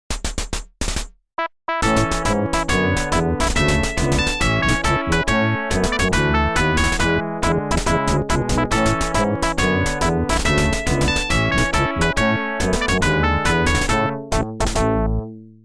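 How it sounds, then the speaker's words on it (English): Colonel Mustard's character theme from a Clue board-game video game: a dense, busy synthesized tune with steady bass and chords that plays loud and continuously after a brief stuttering start. "Most importantly, Colonel Mustard has his own song"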